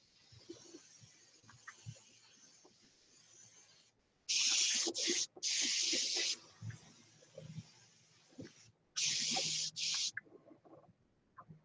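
Spray gun painting a Continental, long hissing bursts of overspray with short pauses between passes, loud and close over a quiet background.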